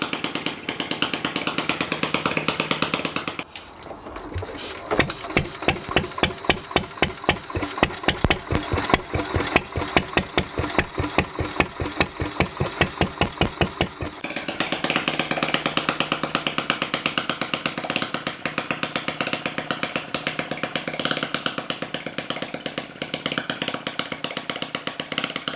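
A Lister D diesel engine, just started for the first time, thumps along in a steady, rapid single-cylinder beat, loud and close, between stretches of broad noise.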